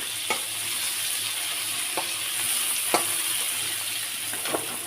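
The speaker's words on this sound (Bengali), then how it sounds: "টমেটোগুলো আর একটু ভেজে নেব" Tomatoes frying in a pan, with a constant bright sizzle and a few sharp spatula strokes against the pan at intervals, no talking.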